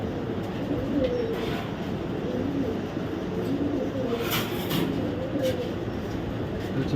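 Racing pigeons, a male and female of a club racing breed, coo softly in a steady, low murmur under a constant broadband background hiss, with a few faint higher chirps.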